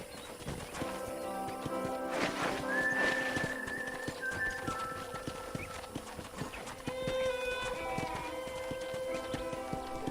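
Steady clip-clop of hooves at an even walking pace, with a brief whistle and a soft whinny over faint background music.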